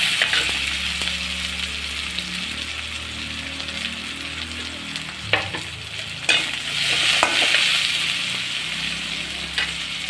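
Onions sauté in a pan with a loud, even sizzle, occasional spoon scrapes and a few sharper clicks as they are stirred.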